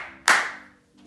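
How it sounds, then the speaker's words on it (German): One sharp, close hand clap rings out alone, followed by a faint second tap near the end. "klatschst du zweimal in die Hände."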